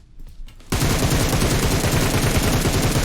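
PUBG gunfire: after a brief quiet moment, a loud, sustained burst of rapid automatic shots rattles on continuously and close up, with no speech.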